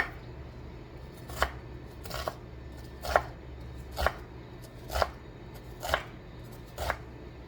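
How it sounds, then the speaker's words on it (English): A knife makes small, shallow cuts into an onion on a cutting board, seven crisp separate chops about one second apart, close and distinct over a quiet background. "And I'm just making real small, little even, shallow cuts, not cutting it straight through."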